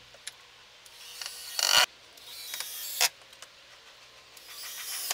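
Stainless steel screws driven at an angle into pressure-treated wood runners for a cedar hot tub, with faint mechanical whirring and a few short grinding bursts as each screw bites, quiet and close with no talk.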